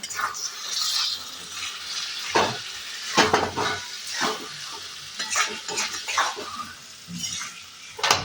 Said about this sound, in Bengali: এবার এই গ্রেভিটার সঙ্গে আমি টিক্কাগুলো সমস্ত মিশিয়ে দিলাম